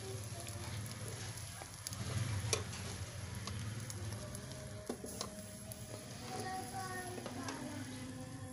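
Fish tikka pieces cook in a pan with a steady, quiet sizzle and faint crackles throughout, while a person talks softly in the background.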